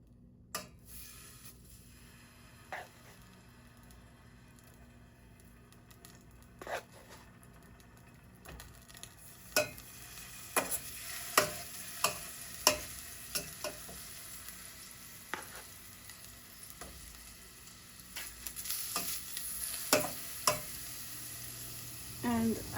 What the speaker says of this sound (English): So these meatballs need to get fried a little bit.